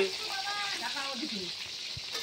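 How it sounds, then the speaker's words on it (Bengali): Potatoes frying in oil give a constant sizzling hiss, with a faint voice briefly in the background. "এখন আলু ভাজা বসাচ্ছি"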